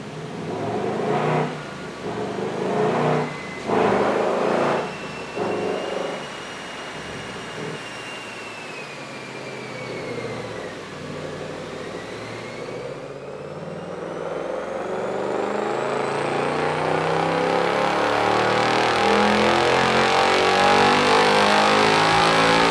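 Ford Mustang Dark Horse S650 with a six-speed manual making a dyno pull, a few sharp revs, then a long steady climb in engine pitch that swells to a loud roar near the end, no talk.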